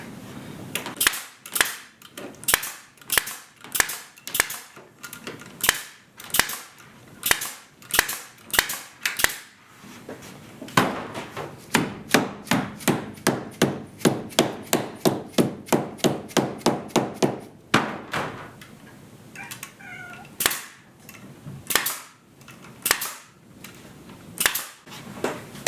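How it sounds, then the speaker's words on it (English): A dead blow hammer taps butyl tape onto an aluminum truck camper roof, sharp close knocks spaced steadily at first, then a fast dense run of blows, then slower strikes again, with no talk. "you take your dead blow and you work that in."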